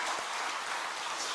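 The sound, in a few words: congregation applauding in church service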